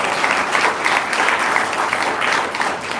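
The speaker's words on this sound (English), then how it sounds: "Pete, let's give him a quick round of applause." An audience at a business forum claps in a steady, dense round of applause lasting about three seconds, moderately close and fading slightly at the end.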